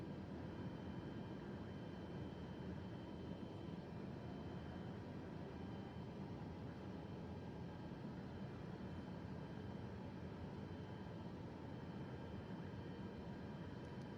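A large jet aircraft's engines hold a steady, broad roar as power is added for taxiing, heard continuously and fairly distant from inside the aircraft with no speech.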